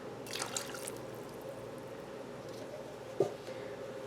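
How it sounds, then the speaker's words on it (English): Water added to a pot of rice as it cooks, a faint trickle and pour with a small splash near the end, heard close and quiet with no talking. "At this stage, I add another ½ cup of water."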